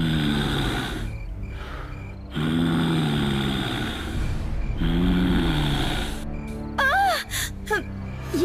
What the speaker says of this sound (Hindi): लेकिन वही सांस लेने की आवाज आने लगी।